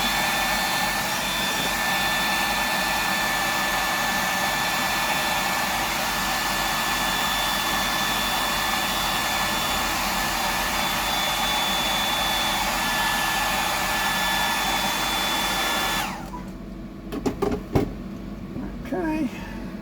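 A heat gun or hair dryer blows hot air over a handmade fishing lure, a loud steady whine and roar held for about sixteen seconds before cutting off, followed by a few small clicks and bumps.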